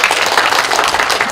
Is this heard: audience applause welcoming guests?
yes